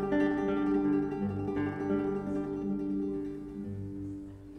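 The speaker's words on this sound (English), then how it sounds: "tremolo uses the ring, middle, and index finger to emulate a voice almost that continuously goes" A classical guitar plays a tremolo melody, rapidly repeated plucked notes forming a continuous, sustained line over a lower bass, quiet and mellow, no voices.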